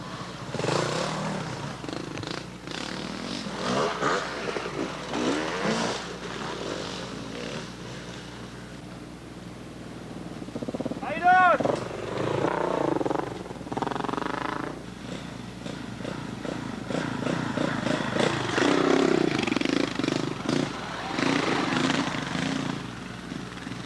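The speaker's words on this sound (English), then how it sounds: "These trails are easy enough that even the biggest dual sport bikes are having a pretty easy time." Dual sport motorcycles ride easy woodland trails near McArthur, Ohio, in 1993, their engines droning and revving continuously at middle distance, rising and falling as bikes pass, with no voices over the sound.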